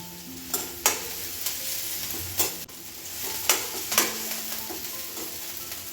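Green chillies and green garlic sauté in a pan with a steady close sizzle, broken by several sharp scrapes and clinks of a spoon stirring against the metal.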